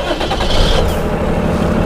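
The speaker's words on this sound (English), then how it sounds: "now we're going to start the engine." A Cummins ISB 6.7 diesel engine with newly replaced injectors cranks and starts, a brief whine sweeping up then settling into a loud steady idle rumble close by.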